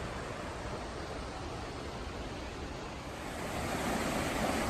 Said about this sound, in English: hearing the rush of the water